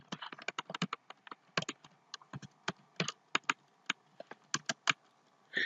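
Irregular bursts of keystrokes on a computer keyboard as code is written, close and clear, with short pauses between clusters of taps and no talking.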